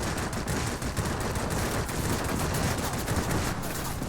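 IL-40 attack aircraft firing its guns in a World of Warplanes garrison strike: a dense, continuous rattle of rapid cannon fire that holds steady at close range for the whole stretch, with no talk.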